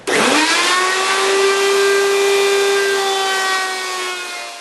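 Router bit cutting through wood, a loud steady whine that rises at first and then holds a tone, gradually easing slightly as the cut continues, with no talking.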